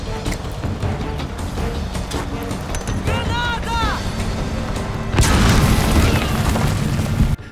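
Explosion blasts in the Metal Gear Solid Δ video game, a loud sustained boom rising sharply past the midpoint over constant battle noise, with a voice talking over it.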